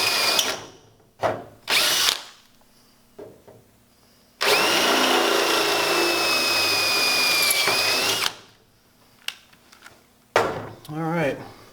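A power drill bores out door hinge screw holes to 8.5 mm for 180-degree hinges, a loud steady whine running about four seconds after a few short bursts, with brief handling noises and talk around it.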